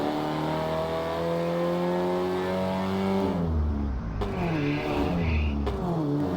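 A video game car engine in Garry's Mod hums steadily, then its pitch shifts as it revs and changes gear, continuous and fairly close.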